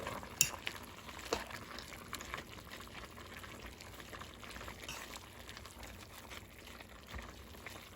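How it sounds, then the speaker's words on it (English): Collard greens and turkey meat get stirred together in a pot, with soft scraping, clinks of a utensil against the pot and wet shuffling under a low simmering hiss, close and fairly quiet. "Just going to mix this all around. Move our meat around."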